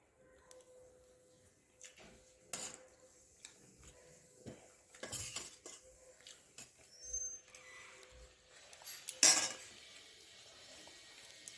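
Utensils clink and tap against a plate of thin katla fish curry cooked with tomato, scattered soft clicks and scrapes at close range in a quiet room, with one sharper clatter near the end.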